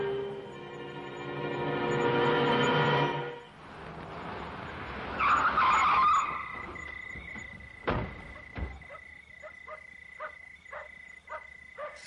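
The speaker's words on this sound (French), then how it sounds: "Allez, viens, je sors la voiture." A car is started and driven out, its engine humming before a rush of tire noise, followed by scattered knocks and mechanical clatter as it pulls away. Nobody speaks.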